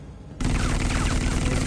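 A gunshot from Batman: The Telltale Series comes in abruptly after a quiet opening and is followed by a sustained, loud burst of overlapping gunfire that runs to the end.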